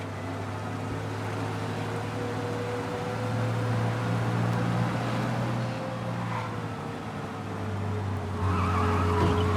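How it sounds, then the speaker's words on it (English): A car in the Mafia Definitive Edition video game drives fast under a steady, loud engine drone with rising pitch, tires skidding briefly near the end, no one talking. "We lose them by driving real fast and getting clear of them."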